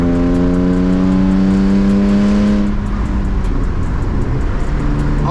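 Manual BMW E36 engine winding up through the revs after a smooth shift into third on a hilly drive, a loud rising drone that breaks off midway, then a rougher, steadier engine roar continues close by.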